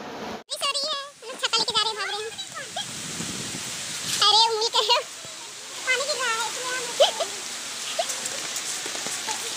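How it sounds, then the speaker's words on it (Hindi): A constant wash of heavy rain hisses outside St. Anthony church in Dhanbad while people talk nearby over it. "और बाहर बारिश भी बहुत हो रही है"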